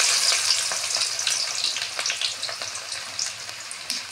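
Onions frying in hot oil in a kadai, a steady crackling sizzle that holds close and fairly loud throughout, with small spitting pops scattered across it and no voices.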